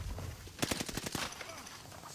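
Rapid bursts of automatic gunfire from Call of Duty Warzone crackle in a short string, moderately loud over a low background hum.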